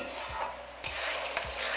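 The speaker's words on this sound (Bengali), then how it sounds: "আর এবার দেখুন পেঁয়াজটা এখানে ভালোভাবে ভাজা হয়ে গেছে" Onion sizzles softly in hot oil while a spatula scrapes the pan twice.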